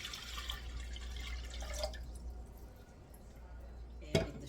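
Water for simple syrup pours into a container with a soft, quiet splashing and trickling over a low background hum, ending in a brief drip or clink.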